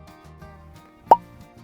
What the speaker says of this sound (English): Excellent cork pop.